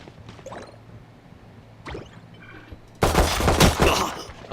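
Video game gunfire, sparse single pops early on, then a dense, loud burst of rapid automatic shots during the final second and a half, with no talk.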